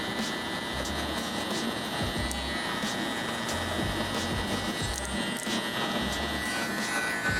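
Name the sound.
electric shaver used on hair during a barber fade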